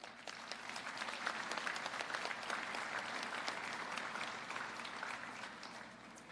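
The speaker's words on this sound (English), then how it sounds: "Will you applaud for that?" Audience applause at the 2023 Caltrans Workers Memorial ceremony: a steady, even wash of many hands clapping, fairly faint and distant, with no voices over it.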